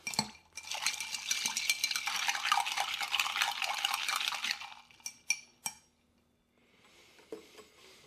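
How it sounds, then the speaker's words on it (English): Ice is stirred in a mixing glass for a Waldorf cocktail, a dense, bright rattle for several seconds, then a few separate clinks, a pause and a soft rustle. "Give it a little ice. And we're going to give it a stir."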